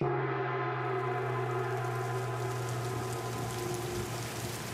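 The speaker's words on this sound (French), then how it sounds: "Une pluie torrentielle s'abattit sur moi." Steady, dense rain pours down without pause, a constant wash of drops with a low hum beneath it.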